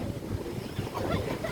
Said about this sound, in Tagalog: Kaya sobrang lakas ng alon.